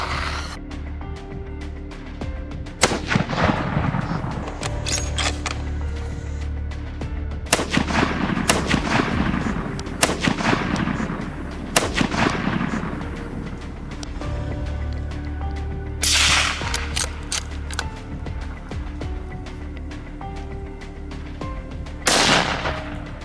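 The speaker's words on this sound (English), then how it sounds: "I fired 2 more controlled shots, taking down a pair of smaller boars before they could disappear into the brush." Rifle shots fired at wild boars during a night hunt, several sharp loud cracks spaced irregularly with rolling echoes trailing off into the open fields.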